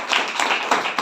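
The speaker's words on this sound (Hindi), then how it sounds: "जोरदार तालियां" A class applauds for a student in a hotel-industry lecture, a short burst of brisk hand clapping that holds steady and fairly close for about a second, with no talking over it.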